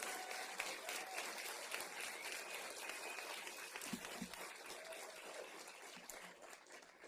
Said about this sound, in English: let's have one large round of applause for everyone who got an award here tonight